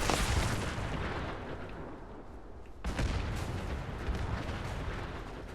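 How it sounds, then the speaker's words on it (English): Dense, continuous booming and crackling explosions in the game Fallout 76, loud and overlapping with no gaps, briefly easing off before a fresh burst of blasts resumes. "You like explosions, you're in the right place."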